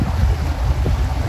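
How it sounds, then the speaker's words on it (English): Boats on open water off Orange Beach, Alabama, out for bluewater yellowfin fishing, heard as a steady low rumble of engines and hull wash under constant wind buffeting. "Lots of boats out here."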